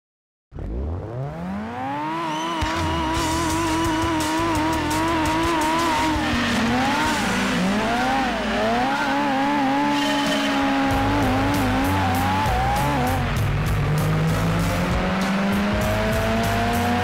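Race cars in Gran Turismo 2 howl through a spurt race with manual transmission: a loud, sustained engine whine climbing and dropping with gear changes, with tire squeal and skidding throughout.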